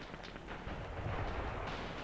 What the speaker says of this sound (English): Oh yeah, I can hear explosions.